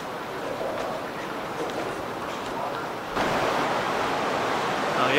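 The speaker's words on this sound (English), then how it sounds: "If you can hear the sound, that's the river underneath us." Genesee River rushing beneath an abandoned subway in Rochester, New York, a steady broadband water roar that swells louder partway through, heard alone.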